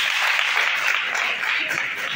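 An audience at a community pad donation event in Kariobangi North breaks into steady, dense clapping, loud and close, filling the whole short stretch without pause.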